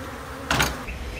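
A steady honeybee buzz hums close by at a hive during a bee removal, with a brief louder burst in the middle.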